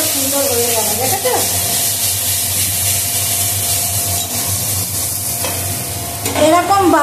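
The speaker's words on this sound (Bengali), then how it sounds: "দেখো এই মাছ দিয়ে দিলাম, মশলা কষিয়ে মাছটা দিয়ে দিলাম" Fish fries in a spiced masala, a steady close sizzle broken by occasional spatula scrapes and stirring, with brief snatches of a voice in the background.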